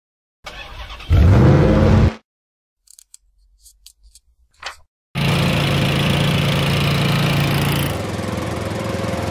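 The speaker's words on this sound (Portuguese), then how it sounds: "carro" A car engine revs loudly for a moment, then after a pause a steady engine drone runs for several seconds.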